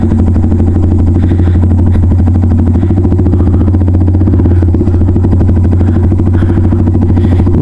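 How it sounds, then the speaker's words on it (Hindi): A Yamaha MT 15 motorcycle engine runs steadily and loudly up close, with a constant throbbing drone and light mechanical clatter throughout, no voices. "यहाँ पर आपको सुनाते हैं आवाज़ इस बाइक की"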